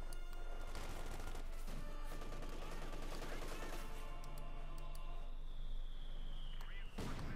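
Battle gunfire from Company of Heroes 2, a World War II strategy game with US forces against German troops, crackles as dense, continuous rattling shots and bursts, loud throughout, with a voice talking over the fighting.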